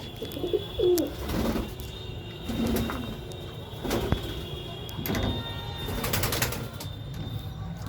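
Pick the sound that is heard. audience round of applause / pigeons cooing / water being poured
pigeons cooing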